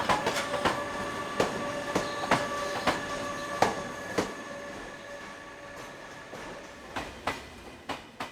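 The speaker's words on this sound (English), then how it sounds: "Another Class 480 is dealing with this single coach." A train hauled by a Class 480 locomotive rolls along the rails with a steady rumble and regular loud wheel clicks over the joints, accompanied by sustained tonal whines.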